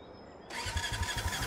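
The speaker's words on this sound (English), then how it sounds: "Let's give that engine a spin." An engine in the Brassheart video game cranks and catches at about half a second, then settles into a loud, rough running chug with a steady pulsing beat, heard alone without talk.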